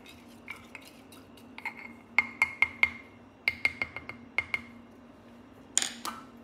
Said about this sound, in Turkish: Öncelikle şu kavanozun içindeki bileşenleri bir güzel karıştırıyoruz.